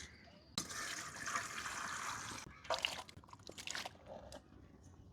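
Water splashes and trickles as raw mangoes are washed in a home kitchen, a steady rush of running water followed by shorter splashes and drips, close and fairly quiet.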